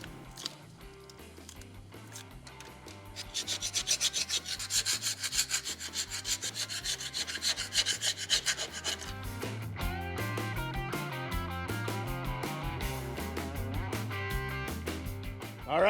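Old gasket material being scraped off a flathead engine on a hopped-up 1932 Ford and Model T hot rod: a run of rapid, rhythmic scraping strokes, steady and fairly close, over a tonal musical background.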